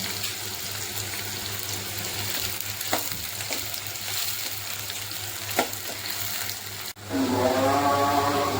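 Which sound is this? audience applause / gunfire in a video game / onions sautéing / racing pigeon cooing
onions sautéing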